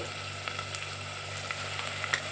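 Upma ingredients fry in a pan with a soft, steady sizzle, broken by a few small crackles and stirring scrapes, faint and alone with no talking.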